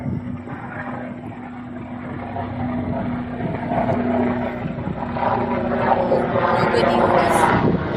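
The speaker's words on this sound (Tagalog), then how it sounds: "That's the air ambulance." An orange air ambulance helicopter drones overhead in the Canadian back country, its steady rotor and engine hum growing louder, with people talking nearby.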